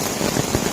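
Steady rain patters on a tarp over a hiker's camp on the Ozark Trail, a dense close hiss of drops with no voices.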